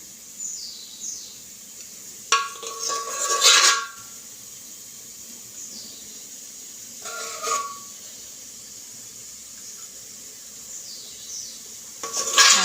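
Butter heating in a pot hisses softly while a metal spoon scrapes and clinks against the pot in two or three short bursts, skimming off the buttermilk foam, with quiet pauses between.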